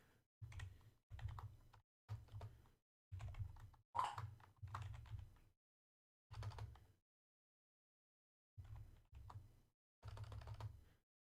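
Typing on a computer keyboard: quick clusters of soft key clicks in short bursts separated by pauses, close and quiet, with no talking.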